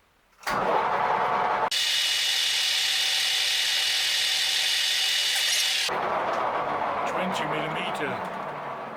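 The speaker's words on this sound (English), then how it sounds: "Then I have to stop the lathe, loosen up my tailstock and set it in reverse." A metal lathe cutting a thread is stopped and set running in reverse. A motor spins up with a sharp onset and holds a loud, steady high whine for about four seconds, then drops to a lower, rougher running tone that slowly fades.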